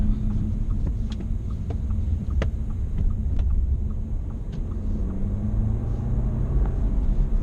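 A 2018 Audi A4 quattro engine idles while warming up, a steady low rumble with occasional faint clicks and ticks over the constant drone; no voices.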